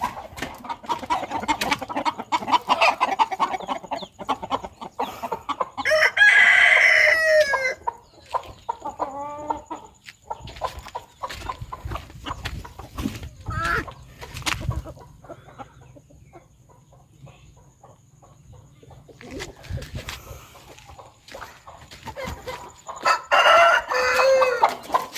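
A hen clucks repeatedly and crows loudly in bursts while attacking a cat, close by, with pauses and rustling between calls.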